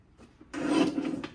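A paper trimmer cuts a 3 1/4 by 12 inch strip of scrapbook paper, giving one short, close rasping slide after a faint bump.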